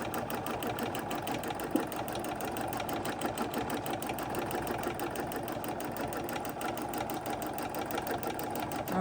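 A sewing machine runs steadily through a quilting square, its rapid needle strokes forming a dense, even mechanical rhythm with a constant motor hum, close and moderately loud, with no voices.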